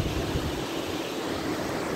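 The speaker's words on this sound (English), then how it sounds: "Sounds like Niagara Falls." The River Dee rushes past The Groves riverside with a constant broadband roar, close and steady, like a weir or falls pouring without letup and no voices.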